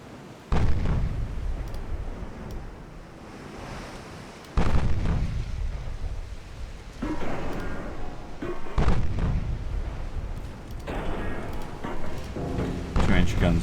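Heavy naval main guns of the ship Shannon firing in a convoy battle in a naval strategy game, booming blasts at roughly four-second intervals with rumbling tails, loud and close.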